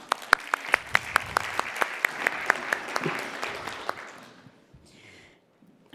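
Audience applause at an open mic session of an education conference, a steady wash of many hands with a few close, sharp claps standing out, fading away after about four seconds into near silence.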